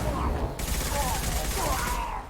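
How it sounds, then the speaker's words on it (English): Dense bursts of gunfire in Mass Effect 2, rapid crackling shots layered into a loud continuous fusillade over a couple of seconds, with voices mixed underneath. "I'm putting a lot of bullets in people, but they don't seem to be going down particularly quickly"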